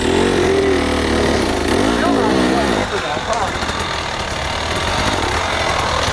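A motorcycle engine revs hard during off-road riding, then its note drops and turns rougher and more pulsing as the clutch is released, loud and close throughout.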